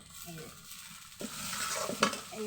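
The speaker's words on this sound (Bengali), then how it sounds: "পেঁয়াজের মধ্যেই আমি এই চিংড়ি মাছগুলো দিয়ে দিলাম" Prawns tipped into onions frying in a hot wok set off a rising sizzle and stirring scrape that swells midway and stays loud, with occasional clinks of a utensil.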